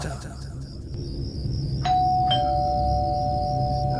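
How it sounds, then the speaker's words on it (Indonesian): A doorbell rings at a gated mess building at night, chiming twice in a row under steady low background noise, sharp and close. "Dia terus-terusan memencet bel itu"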